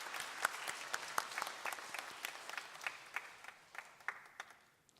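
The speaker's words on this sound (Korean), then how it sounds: "다 함께 박수로서 감사의 마음을 올리겠습니다" A congregation applauding together during a sermon service: a fairly faint, distant wash of many hands clapping for several seconds before thinning out.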